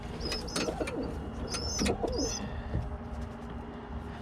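Birmingham roller pigeons coo softly in a loft, a few low cooing phrases near the start and middle, with sharp chirps above and a faint hum of background noise.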